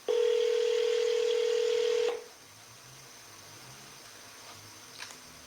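A single steady telephone tone rings loud and close for about two seconds, then cuts off, leaving quiet room noise and a couple of faint clicks.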